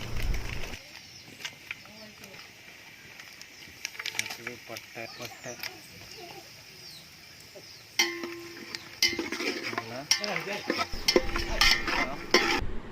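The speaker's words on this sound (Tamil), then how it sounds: "ஃபஸ்ட்டு எண்ணெய் ஊற்றிக்கலாம். பட்டை, லவங்கம், கிராம்பு, பிரியாணி இலை, ரோஜா பூவெல்லாம் ஆட் பண்ணிக்கலாம்." Whole spices frying in oil for mutton biryani: cinnamon, cloves, bay leaf and rose petals crackling in a pan, with stirring clatter and a louder burst of sizzling toward the end, over background noise.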